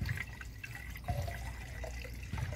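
Water poured from a jug into a car's coolant reservoir, topping off concentrate during a heater core flush; a quiet, steady liquid trickle with a few soft splashes and drips, close by and with no voices.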